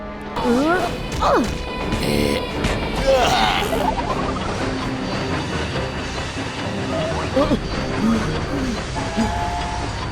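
Rumbling noise of a cartoon train with crashes and heavy impacts throughout, while voices shout over the commotion.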